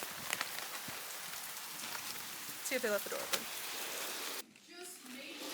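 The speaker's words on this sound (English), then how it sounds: "Oh my god, the rain's getting louder." Heavy rain from a tropical depression in Fort Lauderdale drums steadily and close as a broad hiss, with brief talking over it and a sudden muffled drop near the end.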